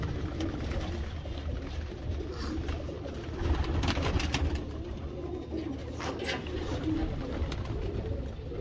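Lalban pigeons from Sonipat cooing softly in a steady, low murmur against constant background noise, with no voices.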